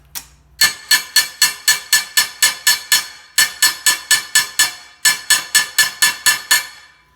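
Hammers pounding the metal tail pan of a 1950 Plymouth, a loud, close series of sharp ringing metallic blows in steady rapid runs, with brief pauses between three bursts.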